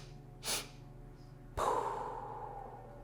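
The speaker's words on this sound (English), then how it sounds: "3 sniffs and an exhale through the mouth." A person doing yoga breathing takes a brief breathy inhale, then after a pause lets out a long audible exhale through the mouth that tapers away, close and soft in a quiet room.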